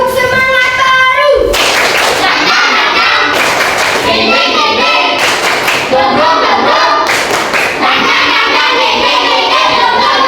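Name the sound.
class doing rhythmic 'tepuk semangat baru' clap cheer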